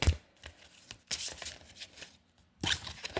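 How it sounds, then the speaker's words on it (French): A deck of fairy oracle cards is shuffled by hand, soft quiet riffles and slides in a few short bursts, close and alone. "je demande à l'oracle des fées ce matin la carte du jour"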